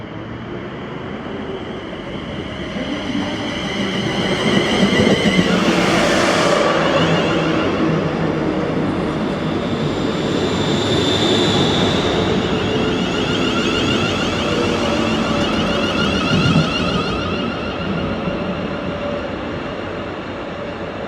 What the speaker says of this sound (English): This is 1C58, the 1326 Scottish service to Edinburgh from Ayr.